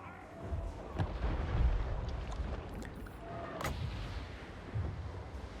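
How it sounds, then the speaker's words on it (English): Ranged shots and artillery fire in the Total War Warhammer 3 video game, with a Chaos Dwarfs campaign battle under way. Several muffled booms and sharp reports rise out of a steady rumbling battle din at moderate loudness. "See if I can continue to get shots off."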